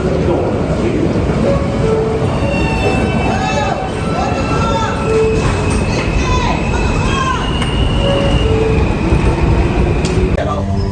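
A train passes close by with a steady rumble of wheels on rail, scattered high squeals and clatter throughout, and voices talking underneath.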